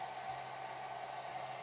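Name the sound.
hair dryer running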